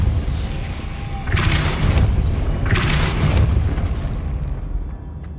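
A Depulso spell is cast in Hogwarts Legacy, giving two forceful booming bursts about a second and a half apart, each with a sharp whooshing crack over a low rumbling game background.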